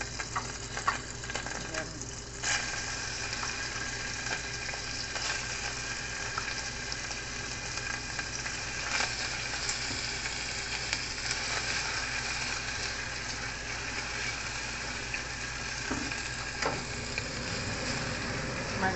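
Onions and beef frying in butter and cooking oil in a pan: a continuous close sizzle with occasional stirring clatter, while a voice briefly speaks over it.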